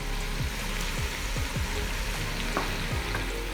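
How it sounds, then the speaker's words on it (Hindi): Beef sizzling steadily in hot oil with spices for nihari, a continuous close frying crackle with a few scraping stirs and no voices. "उधर हमारा गोश्त भून रहा है मसालों के साथ"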